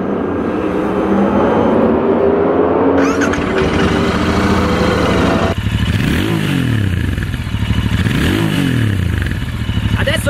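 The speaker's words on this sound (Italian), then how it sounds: "il motore è caldo, se siete d'accordo adesso lo mettiamo in moto" A warm Royal Enfield Interceptor 650 engine fires up nearby, then settles into a steady idle broken by a few loud revs that rise and fall twice, with no voices heard.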